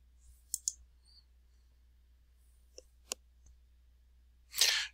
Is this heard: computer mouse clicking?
yes